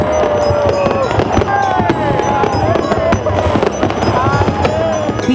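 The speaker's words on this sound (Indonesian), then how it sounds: "Pijar indah cahaya kembang api selebrasi." Fireworks crackle and pop continuously in a dense, loud barrage, with whistling streaks rising and falling and faint crowd noise underneath.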